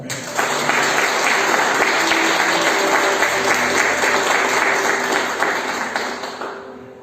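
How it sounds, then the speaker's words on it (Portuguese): A church congregation bursts into sustained applause, a dense, loud wash of many hands clapping that starts suddenly, holds steady for several seconds and slowly fades at the end, with a faint voice underneath. "Você pode aplaudir o Senhor?"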